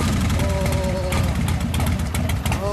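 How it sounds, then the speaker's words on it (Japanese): A Harley-Davidson motorcycle engine idles at a women riders' club gathering, a loud, deep, lumpy rumble that throbs steadily close by, with voices faintly underneath. "はい、エンジン1台ずつかけてもらいます。"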